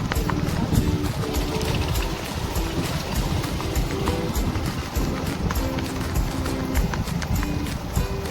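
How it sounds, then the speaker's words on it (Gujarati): A mare's hooves clip-clop in a quick, steady trot while she is driven, close and continuous, with a low rumble of motion beneath the beat. "ઘોડી હાઈકીને પણ આવી ગયા"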